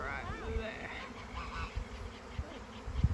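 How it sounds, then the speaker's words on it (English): Bees swarming around a Flow hive make a dense, steady buzzing that hangs close and fairly loud, with individual insects droning past and some low rumbling thumps underneath. "I think they're swarming around. Look at the bees."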